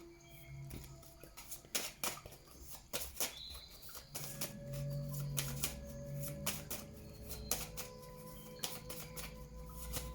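Playing cards are shuffled and handled at close range during a card reading, with a series of soft flicking riffles and light taps, quiet, with no talk.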